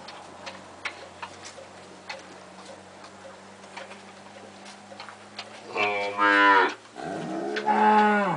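Cattle on a farm give two long, loud moos near the end, after a stretch of quiet background with steady clock-like ticking.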